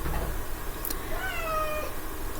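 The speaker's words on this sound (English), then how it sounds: "That's why she was meowing at me." A pet cat gives a short, clear meow with a rising-falling wavering tone in a quiet room over low background hum, heard alone with no talking.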